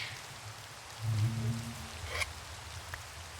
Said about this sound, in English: it's night, it's raining